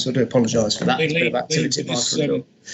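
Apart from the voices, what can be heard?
No everyday noise stands out behind the speech.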